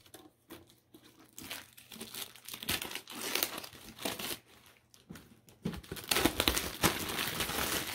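Crinkling plastic wrap on an old, roughly 25-year-old Oreo cookie package being opened, with bursts of crackling and tearing that rise and fall, growing louder and busier toward the end, close to the microphone with no talk.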